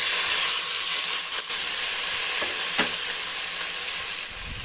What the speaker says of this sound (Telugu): ఈ టమాటాలని అంతా బాగా కలుపుకొని మగ్గేంత వరకు కుక్ చేసుకోవాలండి.